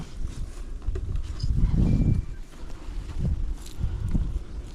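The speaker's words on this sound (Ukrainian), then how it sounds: "Дивіться скільки тут є бджіл" Honeybees buzz around an open beehive, a low, fluctuating hum that swells and fades close by, with faint handling noises and no clear talk.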